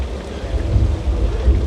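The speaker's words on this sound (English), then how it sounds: "From speakers and sprinklers giving us rain." Simulated rainstorm at a Universal Studios Hollywood theme park attraction, water pouring from hidden sprinklers with rumbling effects played through speakers, a steady loud wash of falling water and deep low rumble.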